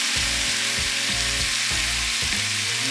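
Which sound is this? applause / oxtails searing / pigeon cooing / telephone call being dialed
oxtails searing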